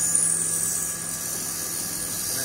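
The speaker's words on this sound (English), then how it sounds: "You can see a bit of load on the drill, but hardly anything." A CNC machine's drill boring injector ports into billet intake runners makes a steady, even whine with high tonal hum and faint background noise, running without change under light load.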